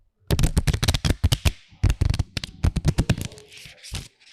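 Playing cards riffle and snap in quick, crisp bursts close to the microphone, with a brief pause in the middle of the shuffle.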